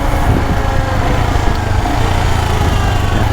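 A motorcycle engine drones steadily and loudly while riding on deserted roads, with a constant buzzing tone and rushing wind, no voices.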